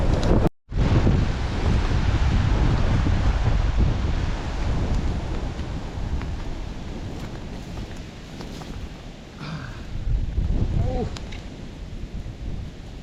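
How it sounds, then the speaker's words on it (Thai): Strong dry wind gusting through a forest, a steady broadband roar buffeting the microphone with rising and falling intensity and no voices. "โอ้ลมแห้งขนาด"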